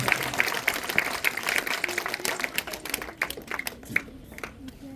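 Children clapping at a ceremony honoring a former Umm al-Qura University professor, a moderately close, uneven patter of hand claps that thins out toward the end.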